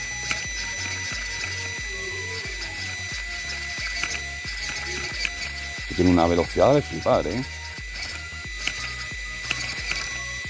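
Loose wheel on a carbon-chassis RC car, a rapid ratcheting mechanical rattle, loudest in a short burst of clicks midway, with someone talking in Spanish over it.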